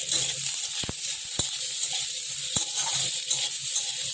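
Raw onion and green chillies frying in a pan for a jackfruit seed mash, a steady close sizzle with a few sharp clicks of a utensil against the pan.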